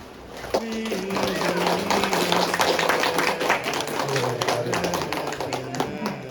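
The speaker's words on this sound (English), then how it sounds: "I really appreciate the applause" Steady clapping from a crowd fills the whole stretch, dense and continuous, with a low hum of voices and movement underneath.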